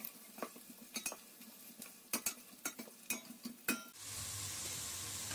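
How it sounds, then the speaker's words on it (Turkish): Onions, carrots, peppers and garlic are stirred in hot oil in a pan, with a run of quiet utensil clinks and scrapes followed by a steady, louder sizzle. "Soğan ve havuçları şöyle yağda iyice bir çevirdikten sonra içine hazırladığım biberleri ve sarımsakları ekliyorum"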